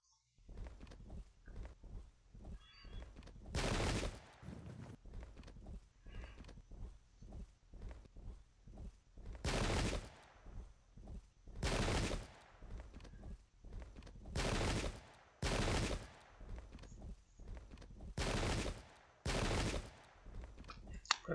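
Musket volleys in the Pike and Shot strategy game, a series of sharp, loud broadband bursts repeating at irregular intervals of a few seconds over a quiet background.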